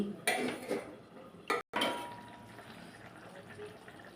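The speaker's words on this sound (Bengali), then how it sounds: "জল দিয়ে ঢেকে দিচ্ছি ঢাকনা তুলে নিচ্ছি" A lid lifts off a pot of fish cooking in spiced gravy, with a brief metallic clatter and a second clink, close by, followed by a soft bubbling simmer.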